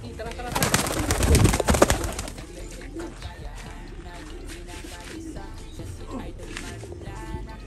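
Pigeons cooing close by, with a burst of fluttering and rustling early on, then softer intermittent coos over a steady outdoor background.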